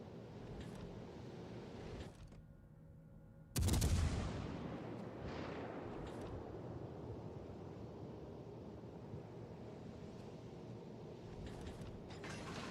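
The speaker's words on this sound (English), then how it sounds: "4 ships shooting at me." Warship guns in World of Warships Legends fire a salvo with a sudden loud boom that rumbles and decays over several seconds. Continuous sea and engine ambience runs before and after the blast, and nobody speaks.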